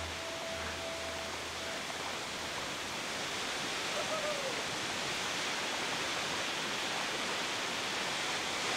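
A waterfall in Madagascar roars as a steady, dense wash of falling water, loud and close throughout, with no other sounds standing out.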